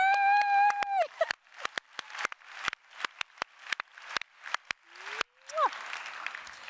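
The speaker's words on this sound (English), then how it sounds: "Can you stand up so we can applaud you?" A theatre audience claps and cheers for someone asked to stand, a dense burst of applause with scattered sharp claps tapering off, then a whistle-like rising tone near the end.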